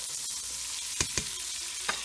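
Sausages, peppers and onions fry in a pan under a constant hiss, while a spoon scrapes through them in a few distinct strokes; close and clear with no talking.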